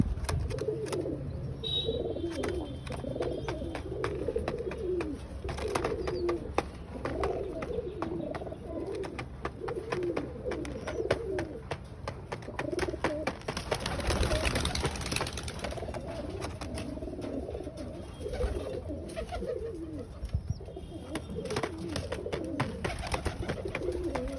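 A new pigeon coos steadily and repeatedly up close, with rhythmic low rolling calls continuing throughout over light background scuffling.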